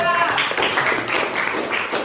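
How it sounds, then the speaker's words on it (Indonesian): Brief clapping from a training workshop group applauding a presenting team, a quick patter of hands under light talk. "Tepuk tangan buat kelompok 4."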